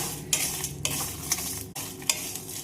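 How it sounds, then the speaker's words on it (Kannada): Sesame seeds, curry leaves and lentils frying in a pan for puliyogare, a steady close sizzle broken by spoon stirs and scrapes against the metal. "1 ಚಮಚ ಎಳ್ಳು ತೊಗೊಂಡೇನೋ ಅವಕ್ಕೂ ಹಾಕ್ತೇನೆ. ಕರಿಬೇವು ಹಾಕ್ತೇನೆ ನಾನು. ಎಲ್ಲ ಭೀ ಚಲೋದಂಗೆ ಹುರಿರಿ."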